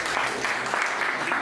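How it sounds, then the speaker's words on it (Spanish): Teachers at a workshop on emotional control applauding a presenter, a brief, steady burst of crowd clapping with faint voices underneath. "Que reciban un fuerte aplauso para animar."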